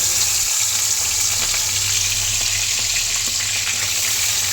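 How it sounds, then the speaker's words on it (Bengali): Prawns frying in hot oil make a loud, steady, close sizzle that holds without pause and with no talking, while a low hum sits underneath. "তেলটা গরম হয়ে গেছে, তেলটা গরম হয়ে গেছে। চিংড়ি মাছকে ছেড়ে দেবো।"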